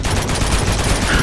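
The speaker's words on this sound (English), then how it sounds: "Just keep shooting." Rapid automatic gunfire from Uncharted 2 rattles in a loud, dense burst of overlapping shots, close and unbroken for the whole moment.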